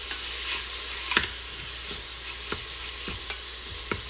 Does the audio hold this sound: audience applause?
no